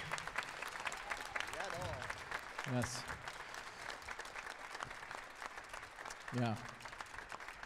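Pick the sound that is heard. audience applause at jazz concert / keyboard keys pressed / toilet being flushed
audience applause at jazz concert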